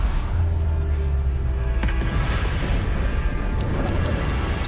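Bombarda spell explosion in Hogwarts Legacy, a deep booming blast under a dense continuous rumble of game noise, with sharp cracks standing out partway through.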